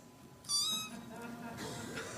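A cat meows from a video playing on a screen, a single bright, drawn-out mew that rises and falls, heard at modest volume over a roomy background with faint murmuring around it.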